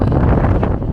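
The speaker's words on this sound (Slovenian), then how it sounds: "Pa veter." Strong wind buffets the microphone on an alpine mountainside in April snow, a loud, close, rumbling low roar that fills the whole moment.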